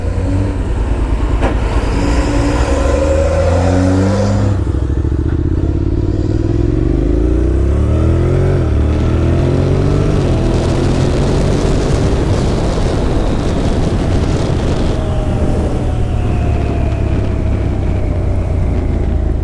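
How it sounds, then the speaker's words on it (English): Honda NC700X motorcycle with an automatic gearbox under way, engine loud and close with rising pitch sweeps as it accelerates and shifts on its own, mixed with steady wind and road roar. "The bike shifts before I would shift."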